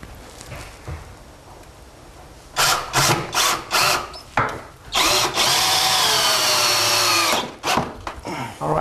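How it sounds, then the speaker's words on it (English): A power drill drives a screw into a wooden cabinet during installation, with several short whirring bursts followed by one long sustained run, loud and close, with no talking. "now that sounds like that screw is biting real well"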